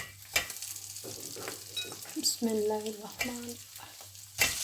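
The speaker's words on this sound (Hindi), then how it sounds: "अब हम इसको धीमी आंच पे थोड़ी देर इसमें डाल के तो भूनेंगे।" Khoya roasting in a pan on a low flame, with soft sizzling and a few scrapes of stirring, heard under a voice speaking briefly.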